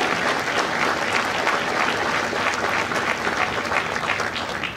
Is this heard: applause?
yes